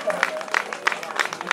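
Hands clap in a steady rhythm of about three claps per second at a fado performance with Portuguese guitar, fairly close, with voices over them.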